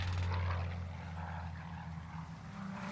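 A helicopter in the video game Warzone drones at a steady rotor hum, fairly faint and distant, with no voices over it.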